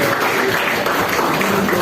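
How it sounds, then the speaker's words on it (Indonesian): Audience applause at a stand-up comedy show in Bali, a dense, steady wash of clapping from a crowd that fills the whole moment without pause. "Tepuk tangan dulu dong."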